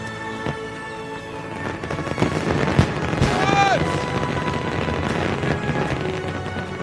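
A Fourth of July fireworks display in the San Juan Islands bursting in the distance: a run of crackles and thumps with several whistling rockets climbing through a steady rumble of noise.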